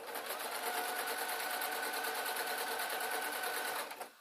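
A sewing machine runs in one steady, close, continuous whir with a fast even stitching rhythm while stitching gathers on a Downton Abbey dress, slowing to a stop near the end.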